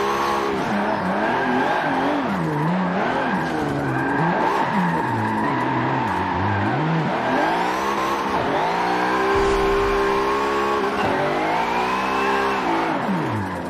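A car in the Forza racing game drifts with a manual clutch, its engine revving up and down continuously with tire squeal, loud and close throughout.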